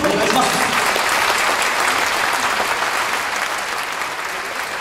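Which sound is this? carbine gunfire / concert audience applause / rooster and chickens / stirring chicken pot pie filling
concert audience applause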